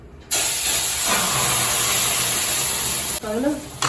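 A steady loud hiss and sizzle as boiling milk is poured into a very hot pan for sheera, running about three seconds before a voice cuts in.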